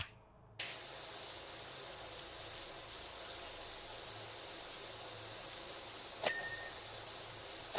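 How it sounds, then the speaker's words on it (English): A pressure washer in Power Wash Simulator 2 starts up after a short quiet moment and then sprays in a steady, loud, continuous hiss, with one brief ding near the end. "Sometimes you need a little stronger spray to get it done."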